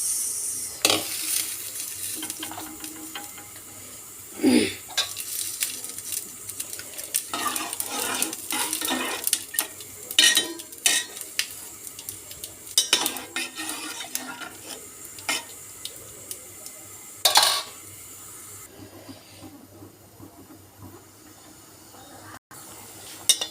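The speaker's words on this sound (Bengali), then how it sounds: "ডালের মধ্যে এখন আমি পেঁয়াজের ফোড়নটা দিয়ে দিই।" Fried onion tempering goes into a pot of lentil dal, bringing a light sizzle broken by repeated clinks and scrapes of a utensil against the pot, fairly close and with no talking.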